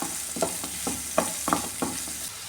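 Sliced onion and curry leaves sauté in hot oil for a curry, a soft continuous sizzle punctuated by about seven distinct spatula scrapes and knocks against the pan.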